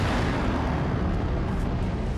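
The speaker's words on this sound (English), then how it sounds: "It'll explode outward and simply rip everything apart." A sound-effect explosion, meant as antimatter ripping the Earth apart from its core, roars as a loud, sustained, broadband rumble that holds steady throughout.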